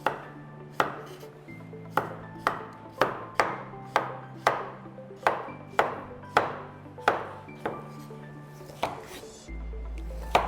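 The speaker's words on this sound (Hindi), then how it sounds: "जुकीनी को काटना बहुत आसान है, सॉफ्ट वेजिटेबल होती है तो आराम से ये कट जाती है।" A knife chops soft zucchini on a cutting board in a home kitchen as vegetables are prepared for a tomato minestrone soup. About fifteen crisp, evenly paced cuts land close by with no talking.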